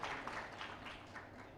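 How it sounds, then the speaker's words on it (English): A panel discussion audience applauds a guest, a dense, steady wash of clapping hands that holds at an even level through the whole short stretch with no voices above it. "So a big round of applause for Ashish"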